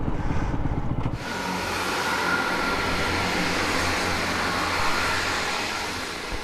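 A train rushes past right beside the tracks at Dawlish station, a loud, broad roaring wash that builds after a brief opening and carries on steadily.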